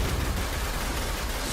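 Gunfire and grenade explosions during a competitive video game match, a dense, steady rumble of distant shots and blasts with no single burst standing out.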